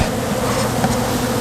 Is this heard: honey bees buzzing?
yes